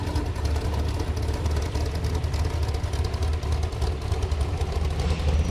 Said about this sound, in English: I'm just going to let the engines speak for themselves.